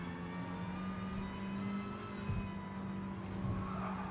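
In the racing game Gran Turismo Sport, a race car brakes hard and its tires squeal in a sustained skid over a steady droning engine tone, continuous and fairly quiet with no talking.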